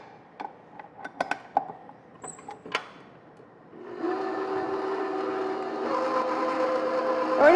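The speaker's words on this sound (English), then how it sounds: "So now that we have all of that in there, we're going to put it back on our mixer." After a few light clinks, a stand mixer starts up and whirs steadily, beating chocolate cream cheese pie filling with a smooth, constant motor hum that grows slightly louder toward the end.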